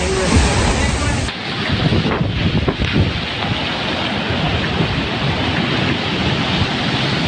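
High sea waves surge and crash ashore at Ko Libong, a storm swell battering homes, with loud, constant roaring surf and heavy wind buffeting the microphone throughout and no talk.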